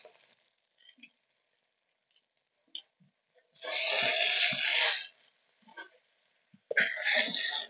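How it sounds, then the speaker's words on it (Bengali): Fish sizzles in mustard oil in a wok, with two loud bursts of frying crackle separated by quiet gaps and faint scattered clinks. "এবার আমি মাছটাকে ভেজে নিচ্ছি।"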